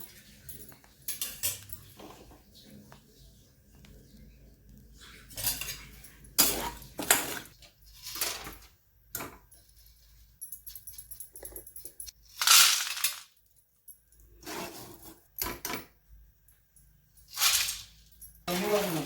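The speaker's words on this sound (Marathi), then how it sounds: "याची प्रोसेस चालू होते तडकण्याची फक्त एकसारखं हलवत राहायचं आहे पहा कसे ओढत आहेत आवाज येत असेल तुम्हाला" Chickpeas roasting in a pan for homemade phutane, sharp crackling pops and clinks scattered irregularly among dry scraping as they are stirred continuously, with quiet gaps between bursts.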